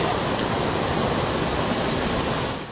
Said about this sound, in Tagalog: Malakas din ang agos ng tubig sa ilog sa bayan ng Tubay.